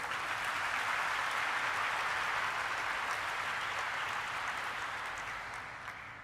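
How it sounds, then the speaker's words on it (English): A crowd at a company stock listing ceremony claps and cheers loudly for the team, a dense, sustained wash of applause that slowly fades near the end. "one more time, a really loud cheer for the team"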